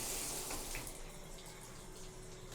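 Water sprays steadily from an adjustable shower head in a hotel bathroom, a continuous hissing rush with slight variation, moderately quiet, no voices.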